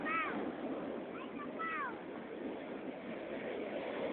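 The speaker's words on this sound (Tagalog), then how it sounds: "Lakas ng alon." Strong sea waves wash steadily on a shore early in the morning, a continuous broadband rush with wind noise on the microphone, while a voice speaks briefly over it.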